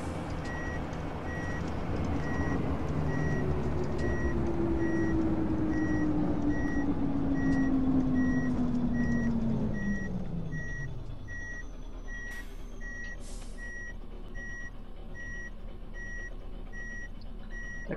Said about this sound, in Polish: Fajnie pika ten kierunkowskaz co chwilę.